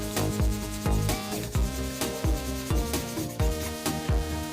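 Hand sandpaper rubbing against a zebrano wood pen blank spinning on a lathe, a steady close scratchy rasp with regular rhythmic strokes and periodic low thumps.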